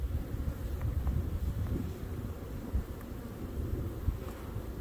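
Honey bee colony buzzing during a spring hive inspection, a dense continuous low hum close to the microphone with occasional louder passes of individual bees and light wind noise.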